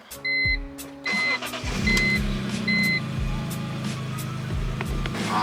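A BMW E46 M3 with an SMG transmission driving: a low engine drone runs throughout, with several short, bright electronic chimes or beeps near the start, and no talking.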